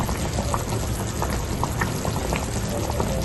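A pot of pork nilagang stew with banana boils steadily as cabbage is added, giving a dense, continuous bubbling and sputtering close by with no talking.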